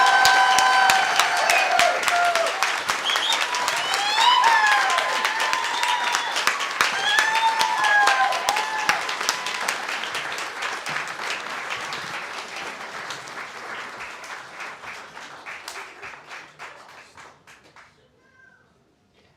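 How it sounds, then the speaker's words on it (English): Audience applause at a graduation ceremony in Sydney, sustained clapping from a large seated crowd with faint voices mixed in, steady at first and then thinning and fading out toward the end. "Give them a round of applause while they're sitting down, everybody."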